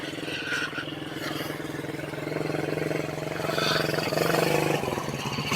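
ATV engines droning steadily as children ride near Chandragiri fort in Tirupati, a continuous mid-pitched motor hum that swells slightly toward the end.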